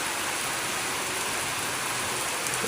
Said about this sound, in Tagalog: pero maulan lang lakas ng ulan